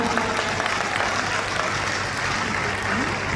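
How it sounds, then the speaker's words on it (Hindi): A crowd claps steadily throughout, a dense continuous applause with a faint murmur of voices underneath. "ताली बजाओ सभी लोग"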